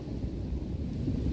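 Deep thunder rolls steadily through a lightning storm, with a dense low rumble and a wash of rain that hold at a constant level for the whole short stretch.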